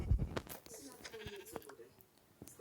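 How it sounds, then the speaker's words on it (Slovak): A sheep bleats in a few short calls amid scattered clicks and knocks, fairly faint and intermittent. "to je ovca"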